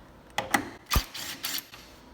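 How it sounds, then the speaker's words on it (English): A ratchet with a 10mm socket turns a top headlight bolt on a 2017-2018 Honda CR-V, a few short, close mechanical clicks in quick bursts with no talk. "take a 10mm socket, and we're going to remove this bolt on the top here"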